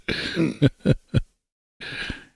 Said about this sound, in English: I frown, coughing a bit from some of the passing smoke.